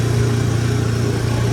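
A motorbike engine, its dynamo recently replaced, idles loud and close with a steady low throb throughout, with no voices over it.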